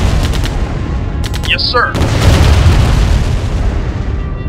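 Ion cannon blasts and explosions from Command & Conquer Remastered skirmish play ring out as dense, loud booming gunfire-like noise throughout, with a brief voice acknowledgment heard over the battle.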